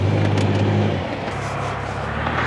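A high-mileage Pontiac Grand Am GT drives along, its engine droning steady and close from inside the car, with low rumble and road roar holding at an even level throughout.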